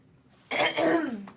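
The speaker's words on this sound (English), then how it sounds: "I gotta clear my throat" A single harsh throat clearing, close and fairly loud, a rough rasping burst lasting under a second after a brief quiet.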